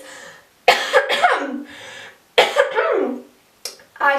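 Three separate coughs from one person, close and fairly loud, each a sharp burst trailing off, with short quiet gaps between them.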